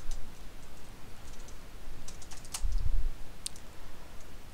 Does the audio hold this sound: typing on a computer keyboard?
yes